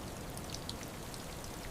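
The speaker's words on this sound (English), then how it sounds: "The rain came down like it wanted to punish someone." Heavy rain falling during a storm, a dense, steady hiss of drops pattering on surfaces, constant and enveloping.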